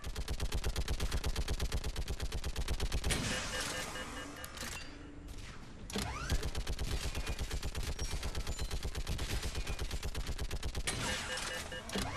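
Sustained automatic gunfire in the video game Mass Effect 3 during a battle on Thessia, dense rapid shots that pause briefly and then resume. A shouted voice comes through the firing.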